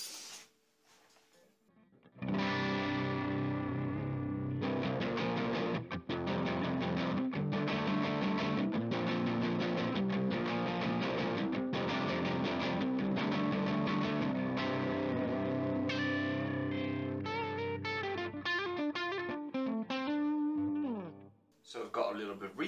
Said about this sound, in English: I'm just going to remove the fuzz so you can hear the AC30 on its own